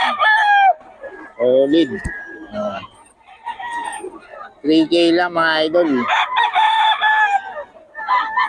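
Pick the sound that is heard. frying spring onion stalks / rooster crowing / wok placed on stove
rooster crowing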